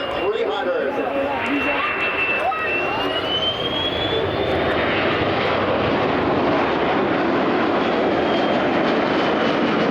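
A Boeing 737-300 airliner passes low over the runway at an airshow, its jet engines a loud continuous roar with a rising whine, while a commentator talks over the public address.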